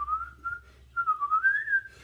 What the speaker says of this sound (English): whenever I'm afraid, I whistle a little tune